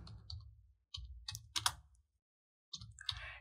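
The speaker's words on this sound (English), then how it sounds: "In settings here I type color filter." Typing on a computer keyboard in Windows 11 settings: short bursts of quick, close key clicks separated by brief pauses, clear and isolated with no talking.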